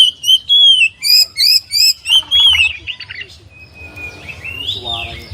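A magpie robin (kacer) sings alone with a rapid series of loud, clear whistled phrases and chirps, followed by softer, varied warbling notes.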